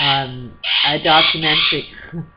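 A pet bird calls indoors in loud, close, harmonic squawks and warbling phrases, several bursts over two seconds with brief gaps, standing alone without talk.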